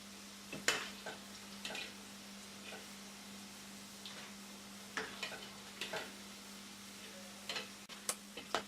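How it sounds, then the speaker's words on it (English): Plantain slices fry in hot oil, a soft steady sizzle with occasional sharp ticks and light clinks of a utensil, quiet and close, with no talking. "So now you just want to leave the plantains to fry."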